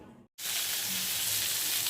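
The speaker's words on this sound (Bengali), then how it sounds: "পটল ভাজা হচ্ছে" Pointed gourd hits hot oil in a pan and a steady, loud, bright sizzle follows right after a brief silent gap, then continues without a break.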